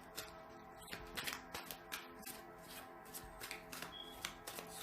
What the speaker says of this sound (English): There's a lot of shuffling.